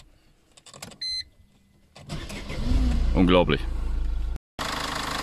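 A diesel car that sat two years on old oil, just given an oil flush, cranks and catches, then settles into a steady loud idle after a brief silence; someone speaks briefly beforehand.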